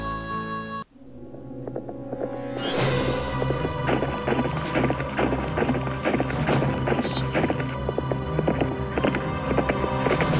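Phantom horse hooves galloping in the Nancy Drew game Secret of Shadow Ranch, a steady rhythmic clip-clop that starts abruptly after a brief quiet tone and keeps going loud and close over layered game music.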